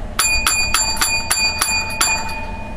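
A bell sound effect is struck seven times in a quick, fairly even sequence, each ring clear and bright with a short ringing decay, alone with no talk over it.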